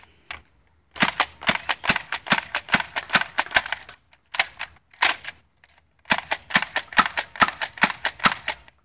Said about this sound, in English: Almost forgot the slam fire demo.